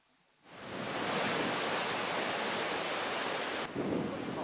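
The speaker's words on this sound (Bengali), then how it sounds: "প্রায় 10 ফুট ওপর থেকে জল নিচে গিয়ে পড়ছে" Water at Gaurikund drops about ten feet into a pool, making a steady, broad rushing roar that starts abruptly and holds at full strength, with no voices over it.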